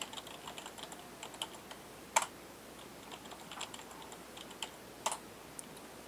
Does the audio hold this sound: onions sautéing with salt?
no